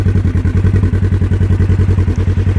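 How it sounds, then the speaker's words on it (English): A 2017 Polaris General 1000 UTV fitted with an aftermarket dual exhaust idles up close, giving a deep, steady, rhythmic thrumming pulse at an even beat with no talking. "We have a dual exhaust aftermarket added on here."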